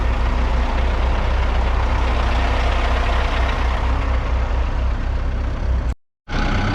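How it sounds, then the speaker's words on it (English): A bulldozer working a gravel pad on a hillside excavation site, its heavy diesel engine droning loudly and steadily close by with a broad low rumble, cut off abruptly near the end. "Jump in the dozer, blade off this gravel a little bit more"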